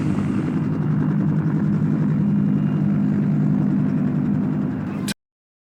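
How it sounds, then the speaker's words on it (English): A steady, droning helicopter rotor thrums loudly and evenly for several seconds, then cuts off abruptly into silence. "And then the last helicopter left."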